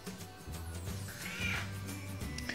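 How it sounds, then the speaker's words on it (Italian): A cat meows close by indoors, giving a few drawn-out, wavering mews in quick succession over a soft room background. "Il bello della diretta è che anche Micio dice la sua"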